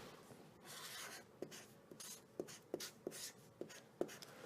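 A pen or marker scrawls a math expression on a writing surface, making quiet rubbing strokes and a series of distinct tapping ticks in an uneven rhythm, close but faint, with no talking.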